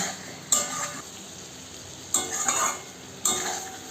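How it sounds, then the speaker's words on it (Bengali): Fried eggs and potatoes are stirred into a cooking masala, giving three separate bursts of spoon scraping and sizzling around the pan with quieter frying between them. "ভেজে রাখা ডিম আর আলুগুলোকে আমি দিয়ে দেব, দিয়ে আমি সুন্দর করে কষিয়ে নেব।"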